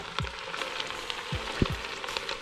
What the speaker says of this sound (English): the butter is melted, so now I'm just going to add the onions